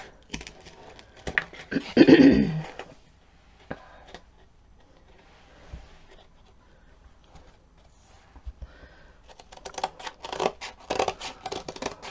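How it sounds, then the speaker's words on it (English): Scissors snip through burlap along a pencil line, making close, crisp cuts in bursts of rapid snips separated by pauses and quieter rustling of the fabric. "I am trying to cut on the inside of my pencil line"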